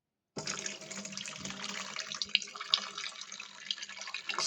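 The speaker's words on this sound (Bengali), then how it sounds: "এখন আমি পানি ছেড়ে দিই।" Water runs from a tap after a brief silence, a steady close splashing stream that continues to the end with small drips.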